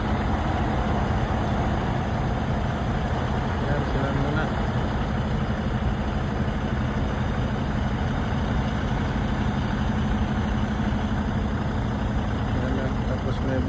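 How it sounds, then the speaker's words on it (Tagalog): A truck engine idles steadily during gear-shifting practice, a continuous low rumble close by with people talking over it throughout. "Practice kami dito ng pag-shift ng truck."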